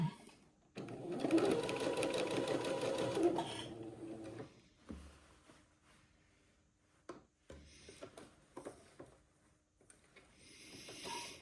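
A sewing machine runs steadily for a few seconds as it stitches fabric around the armhole of an Eton suit top, then stops, leaving quieter handling and brief rustling.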